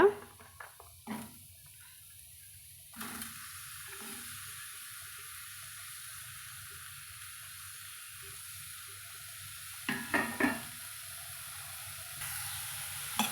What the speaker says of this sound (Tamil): இப்போது இதில் இந்த சுரக்காய் வந்து நம்ம சேர்த்து வதக்கலாங்க